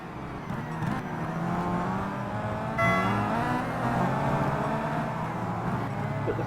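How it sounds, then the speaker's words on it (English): Chevrolet touring cars in the Simraceway game at a 2011 WTCC race, engines droning loud and steady at high revs for the whole stretch, with a brief rise in pitch partway through, no voices over it. "Doug also behind 2 very large Chevrolets as they make their way down now up the park straight in towards turn number 3"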